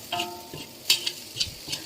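A metal spatula scrapes and clanks in a wok over high heat while fried rice with nham (Thai fermented pork) and fresh bird's eye chilies sizzles, with several quick irregular stirring strokes close by.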